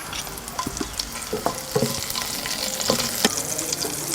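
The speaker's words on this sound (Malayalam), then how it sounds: "ഇനി നമുക്കിതിലേക്ക് 3 പച്ചമുളക് ഇട്ട് കൊടുക്കാം." Green chilies frying in a pan with shallots, ginger and garlic for a carrot and potato stir-fry, a steady close sizzle broken by several scraping stirs, with no talk.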